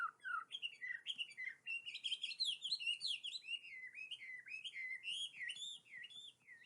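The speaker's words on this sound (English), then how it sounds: "It is also called the laughing thrush. It has a beautiful song, but it is very high-pitched." A hwamei, the laughing thrush, sings in China: a long run of high, clear whistled phrases that rise and fall, sung close and loud with only short pauses.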